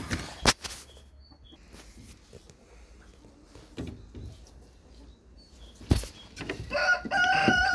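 Rooster on a small farm crowing twice, sharp loud bursts near the start and again toward the end, with quiet clucking and yard noises in between.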